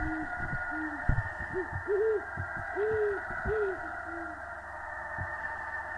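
Repeated hooting of an owl in a horror video game, a series of distinct two- and three-note hoots over a steady droning background, fairly close and moderately loud, with no talking.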